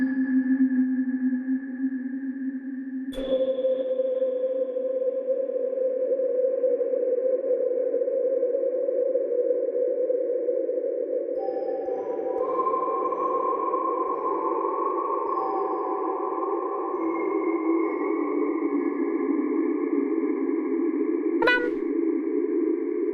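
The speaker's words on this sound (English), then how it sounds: "with this reverb pedal, we can make it very reverby" Guitar notes played through a reverb pedal set to an extreme wash, sustained tones swelling and blurring into a long ambient tail, with two sharp plucked attacks standing out amid the continuous shimmer.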